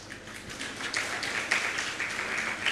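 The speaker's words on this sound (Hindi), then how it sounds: "भैया ताली मत बजाओ।" An audience claps in a continuous, fairly soft patter at a Hindu religious discourse in Barwani, Madhya Pradesh, with a few sharper claps standing out from the steady wash.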